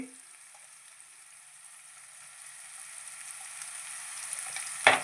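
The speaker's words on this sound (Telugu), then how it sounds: "మెంతికూర వేసుకొని చక్కగా వేయించేసుకుందాము" Fenugreek leaves fry in a pan with a gentle, steady sizzle that swells slightly over time and ends in a single sharp clatter near the finish.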